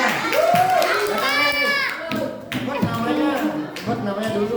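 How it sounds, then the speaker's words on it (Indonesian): Children clap their hands in a short burst amid lively kids' voices, the sharp claps mixed under excited chatter and sing-song speaking close by. "Tepuk tangan."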